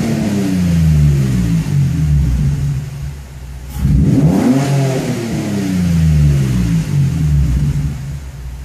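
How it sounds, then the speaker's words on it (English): Nissan 350Z with a true dual exhaust revved from inside the cabin: a muffled, steady engine drone rises and falls in a couple of rev sweeps, fairly quiet and alone with no talking. "So do a quick couple of revs inside the cabin."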